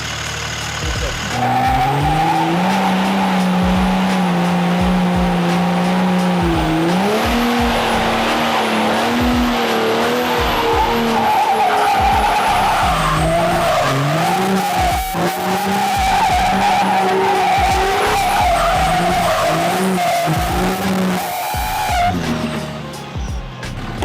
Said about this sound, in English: we're gonna see if we can't spool this thing up and do a little bit of a burnout